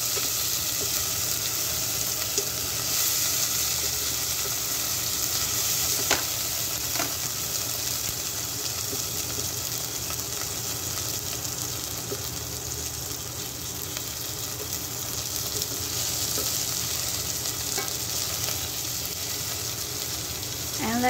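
Garlic and tomato sauté in a home-cooking pan, giving a steady, loud sizzle with light stirring scrapes throughout, close and continuous with no talk.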